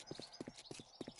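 Deer hooves running in the video game 7 Days to Die, a steady galloping clip-clop of paired hoof beats, close and moderately loud, with no talking.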